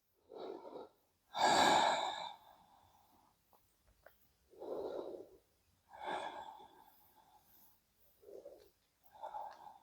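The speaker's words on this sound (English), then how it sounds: "Nice, soft, gentle breaths." Slow breaths during a gentle yoga spinal twist, heard close in a quiet room. About six separate inhales and exhales are spaced by pauses, a few of them fuller and airier than the rest.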